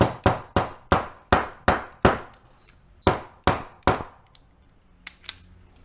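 A 12 mm socket tapping metal engine parts during a Toyota Celica engine rebuild: a run of about a dozen sharp, ringing metallic knocks at a steady pace, close and loud, then a few lighter clinks.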